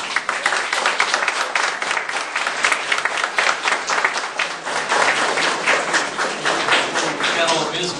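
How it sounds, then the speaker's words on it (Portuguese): Audience applause for a senator at a Brazilian Senate session, dense and sustained clapping from a large crowd throughout, with a faint murmur of voices beneath. "eu quero dar uma grande salva de palmas para Ulisses Riedel"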